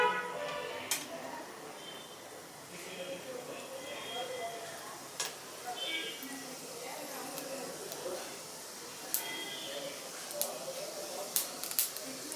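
Mustard seeds and urad dal splatter in hot oil in a pan for a brinjal curry, giving a steady crackling hiss broken by sharp pops throughout, with faint talk beneath.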